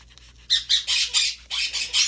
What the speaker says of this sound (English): we love to hear your birds in the background